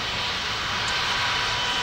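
Steady, close airplane engine drone from a Pilot Training Simulator game as the aircraft taxis toward the runway, a constant broadband hum holding even throughout with no talk.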